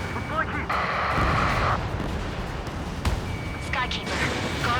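Missile explosions and gunfire in the jet combat video game Ace Combat 7, with booming blasts and rumbling bursts layered under radio voices and warning beeps, steady and fairly loud.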